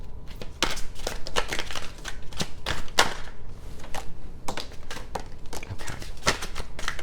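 Tarot cards being shuffled by hand produce a quick run of crisp, close taps and flicks in irregular bursts, with brief pauses between them.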